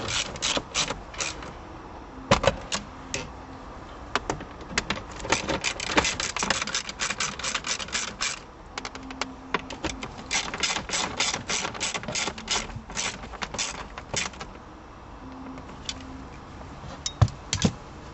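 Socket wrench ratcheting as it tightens shifter bolts on a VW Passat during a solid shifter install, with rapid, repeated close-up clicking in bursts and short pauses, no talk.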